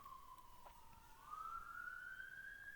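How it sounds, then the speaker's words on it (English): A distant siren wails outside, its faint rising and falling tone drifting over a quiet room during a yin yoga cool-down session. "Sorry, there's more sirens."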